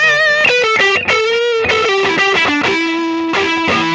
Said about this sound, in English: the neck pickup almost has that angry Strat tone to it